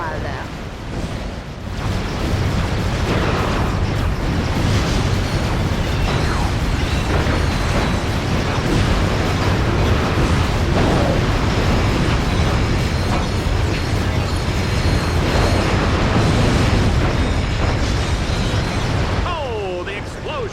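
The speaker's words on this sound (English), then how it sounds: "Oh, the explosions, the gunfire, the carnage." Chaotic video game combat in the Dread Zone arena, with dense overlapping explosions, bursts of gunfire and vehicle noise rolling on continuously and loudly throughout.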